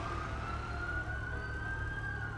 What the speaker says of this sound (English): Those New York sirens, though.